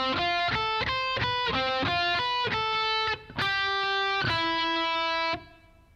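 A heavily distorted electric guitar runs through a fast arpeggiated phrase from a song, crisp rapid notes giving way to two longer held tones before fading, played up close and alone.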